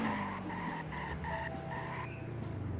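A Toyota RAV4 braking hard in the video game Greenville, a rhythmic pulsing tire squeal of repeated short chirps over a low engine tone, ending in a longer skid.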